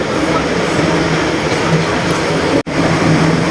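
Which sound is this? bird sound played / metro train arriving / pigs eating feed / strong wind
metro train arriving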